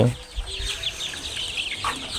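Several Tiger breed chickens cluck and squawk in a steady, busy chorus, fairly close, with faint farmyard background noise and no talking.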